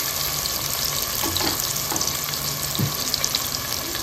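Onion pieces and green chillies sizzle loudly in hot oil while cooking goat head curry, a dense continuous crackle close up with faint stirring scrapes and no voices.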